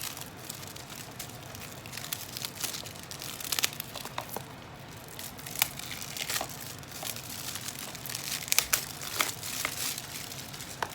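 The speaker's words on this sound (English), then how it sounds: "let's tear this open" Plastic shrink wrap being torn and peeled off a PS5 game case for Battlefield, a steady close crinkling and crackling with sharper rips scattered throughout, no voices.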